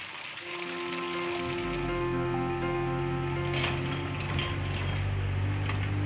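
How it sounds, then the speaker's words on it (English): Holm & Laue Milk Taxi 3.0 calf-feeding milk cart running its semi-automatic washing cycle: a steady mechanical hum with a faint ratcheting, whirring pump or motor tone that starts up after a brief quiet moment, plus water splashing, continuous and close. "the push of a button is all it takes to start the semi-automatic washing procedure"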